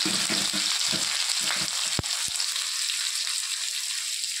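Dried red chillies, whole cumin and onion frying in hot oil for a Bengali chholar dal, a steady bright sizzle with soft stirring scrapes early on and one sharp utensil knock near the middle.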